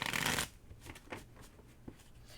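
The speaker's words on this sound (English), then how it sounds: "One more shuffle." A deck of tarot cards is shuffled close by: a brief dense riffling burst, followed by several soft taps and slides as the cards settle.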